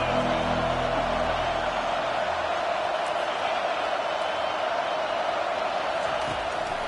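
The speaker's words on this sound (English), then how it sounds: "Decibels rising as the crowd gets behind this defense on 3rd down." Stadium crowd in College Football 25 roaring on a third down, a dense, steady wash of cheering noise that holds at a constant loud level throughout.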